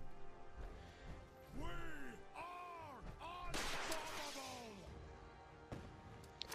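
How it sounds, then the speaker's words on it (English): Rockets and gunfire hit the player in Fallout 4, a run of whooshing, arcing tones and booming impacts with one loud blast, mixed with game sounds and what sounds like a voice. "Someone's shooting rockets at me."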